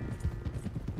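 Rapid, rhythmic hoofbeats of a horse clip-clopping at speed in Red Dead Redemption 2, steady low thuds over a constant game backdrop.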